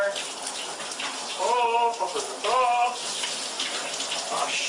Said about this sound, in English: Trying not to get too much water outside of the shower